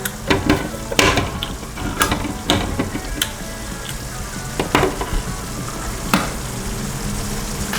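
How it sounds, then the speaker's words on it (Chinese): A can of creamed corn is opened beside a pan of cooking carrots, with irregular sharp clicks and ratcheting pulses over a constant sizzling background, close and fairly loud. "开一罐玉米浆"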